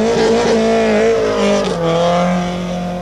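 A Vauxhall Chevette tarmac rally car at the 1982 Circuit of Ireland Rally, its engine roaring loud and close with a strained, rising and falling tone as it shifts, alone without talk.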